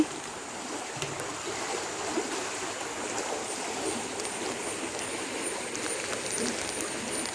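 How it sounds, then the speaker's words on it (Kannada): Water running along a drainage ditch in an areca nut plantation after the first rain, a steady broadband rush with light trickling, continuous and fairly close, no voices. "ನಿನ್ನೆಯಿಂದ ತೋಡಲ್ಲಿ ಈ ಥರ ನೀರು ಹರಿಯೋದಕ್ಕೆ ಸ್ಟಾರ್ಟ್ ಆಗಿದೆ"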